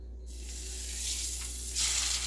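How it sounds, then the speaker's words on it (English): Steady sizzling hiss of a pork chop frying in a hot pan, swelling slightly louder toward the end. "I'll lay it in there, and I'll just start frying it"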